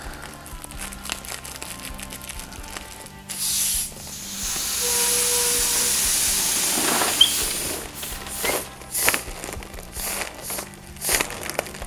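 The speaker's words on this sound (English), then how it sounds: "I'm just using a standard tilt nozzle on the helium cylinder." A standard tilt nozzle on a helium cylinder inflates a huge Spider-Man Airwalker balloon, giving a steady hiss of rushing gas for several seconds. Crinkling of the balloon film and faint handling noises follow.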